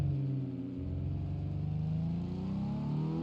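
A Porsche Cayman's 2.7-litre flat-six engine in the BeamNG Drive driving game, running loud and steady with a rising rev under acceleration, no talking over it.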